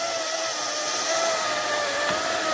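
A Hart 14-inch battery-powered chainsaw runs while cutting firewood, giving a steady, fairly quiet electric whine with a faint rasp of the chain through wood, with no talking.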